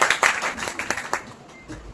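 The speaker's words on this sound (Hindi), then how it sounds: "जोर से तालियां" A small audience claps briefly after a motivational Hindi shayari recitation for library students on Independence Day, a short scattered burst that thins out within two seconds.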